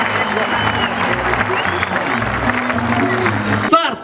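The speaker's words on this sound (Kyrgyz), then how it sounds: "Тагы бир жолу оюнчуларга кол чабалар, урматтуу көрүүчүлөр." Spectators applauding the players at a rodeo in Bishkek, a steady wash of clapping and crowd noise held for about four seconds, with an announcer speaking over it throughout.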